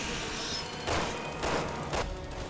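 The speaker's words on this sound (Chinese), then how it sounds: "乱咁开枪啦！" Rapid bursts of gunfire in the video game Biohazard 6, several sharp volleys about half a second apart over a steady dense background of game noise and music.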